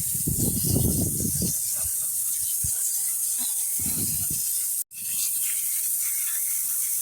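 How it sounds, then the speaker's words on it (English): A steady hissing spray of water onto rocks and druzy quartz runs throughout, close and loud, with a few low rustles and knocks mixed in and one brief cutout. "It's so cool to spray it off and see what's under it"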